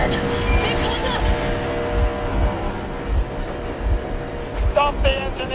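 A vehicle engine idling in Metro Exodus, a steady low rumble with a regular thumping pulse, close and continuous, while voices talk over it.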